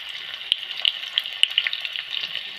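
Shallots fry in hot oil in a pan, a tempering step for idichakka thoran. A steady close sizzle carries scattered sharp crackles and pops, with no talking.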